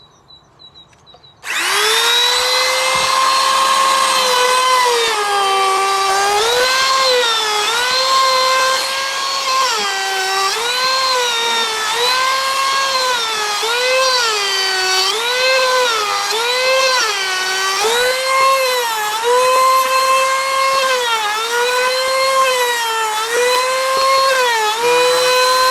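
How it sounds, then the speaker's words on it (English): A Bosch router runs loud and close while cutting curves into wood for a simple phone stand, its high motor whine dipping and recovering again and again as the bit bites into the workpiece, with no talk. "Got my Bosch router set up."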